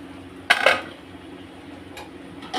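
A lid set onto a cooking pot of amudi fish with aubergine: one bright metallic clank with a short rattle, then a fainter clink a moment later, over quiet background hum.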